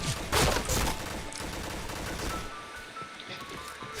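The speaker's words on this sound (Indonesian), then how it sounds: "Nggak biasa main ini machine gun." A machine gun fires in a shooter video game as a dense, loud burst of rapid shots that tapers into quieter crackling fire over a few seconds, with no talking.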